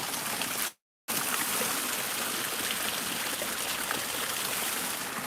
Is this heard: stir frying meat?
no